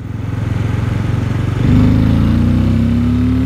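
Benelli Imperiale 400 motorcycle accelerating on a main road, its engine thumping in a loud, close, pulsing rhythm that rises in pitch and swells sharply as the throttle opens, with no talking over it.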